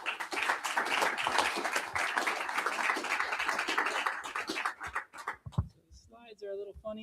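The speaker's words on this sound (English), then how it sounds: "Let's give them a round of applause." Audience applause at a live London networking event for chief architects, a dense clatter of clapping that thins out and fades before a voice begins speaking near the end.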